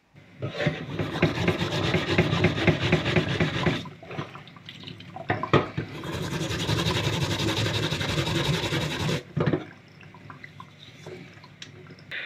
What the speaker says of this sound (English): we're just gonna rub it a little bit and you will see the difference